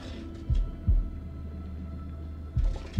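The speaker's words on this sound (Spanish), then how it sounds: "pulsa al mismo tiempo que el latido" Heartbeat in the horror game House of Ashes: slow, deep thumps in pairs, two close beats then a long pause before the next pair, loud against a quiet low hum.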